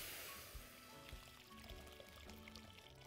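Hot water poured from close by into a cooking pot for preparing breaded brains, a faint steady stream splashing for a few seconds.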